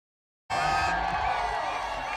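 Crowd at a village cricket final in Mangaon cutting in abruptly, a dense wash of cheering, whoops and clapping that stays loud and constant to the end.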